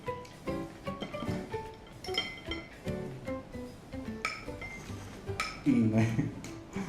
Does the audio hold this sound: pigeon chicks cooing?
no